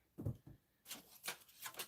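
A deck of tarot cards being shuffled by hand, soft low handling thumps followed by a few quick riffling bursts, quiet and close.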